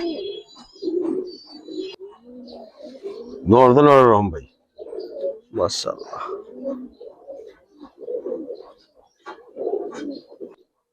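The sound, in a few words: Giribaz pigeons cooing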